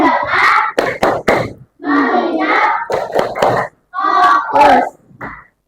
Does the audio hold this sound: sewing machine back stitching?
no